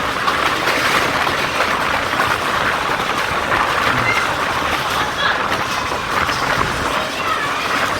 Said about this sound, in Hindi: ये रहा मुरीद के रेलवे स्टेशन, जिसको स्पीड जाफर एक्सप्रेस क्रॉस कर रही है।